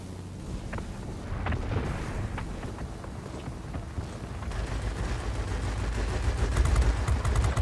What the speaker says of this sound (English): More bad shooting.